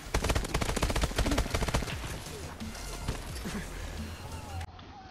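Rapid automatic gunfire from the shooter game Call of Duty Advanced Warfare rattles loudly at first, then thins to scattered shots and game effects, with someone talking over it.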